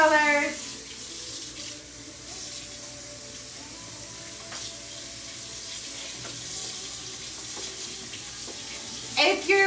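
Water from a tap runs steadily over a tie-dyed tank top being rinsed in a sink, a close continuous splashing rush with brief handling sounds and a voice at the start and end.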